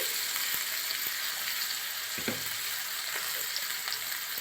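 Potatoes with turmeric crackle and sizzle in a hot pan, a steady close frying hiss with a few soft stirring knocks throughout, and no voices.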